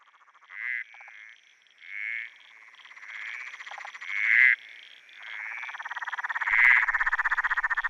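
Frogs croak in a series of loud, close, buzzing calls that come in uneven bursts and then run into a longer rattling trill, with no voices.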